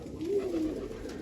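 A single soft pigeon coo, low and gently rising then falling, heard close and alone.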